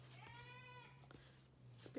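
A child imitates a sheep with a faint, distant wavering bleat, heard over a steady low hum and a few soft knocks.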